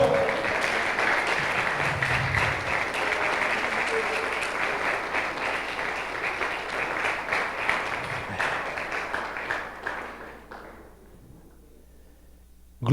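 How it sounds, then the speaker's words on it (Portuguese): A church congregation applauds the Lord at a service, broad sustained clapping with some voices mixed in, tapering off near the end before a brief sharp sound. "Então dá um glória a Deus e aplaude o Senhor"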